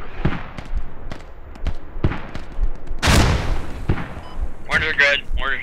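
Mortar and gunfire booms in the tactical shooter Squad, several sharp distant blasts spread across the clip with one heavy, loud explosion near the middle, under and between players talking over voice chat.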